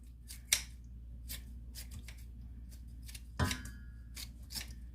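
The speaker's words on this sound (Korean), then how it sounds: "식지 마시고 그냥 가위를 쭉쭉 자르세요" Kitchen scissors snipping kimchi, the crisp cuts sounding one by one in an uneven rhythm, close and fairly quiet, with no talk over them.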